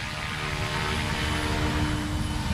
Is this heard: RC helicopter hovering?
yes